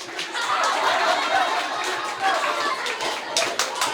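Schoolchildren's audience at a reading day clapping for students, a dense patter of hands that runs steadily through the moment, mixed with murmured chatter and scattered voices.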